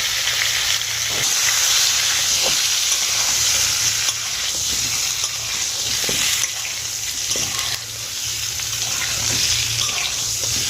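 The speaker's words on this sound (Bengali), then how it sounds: "পটলগুলো একটু লাল লাল করে আমি ভেজে নেবো" Pointed gourd (potol) pieces fry with turmeric in a hot pan, giving a loud, steady sizzle with occasional stirring scrapes and clinks, and no talk over it.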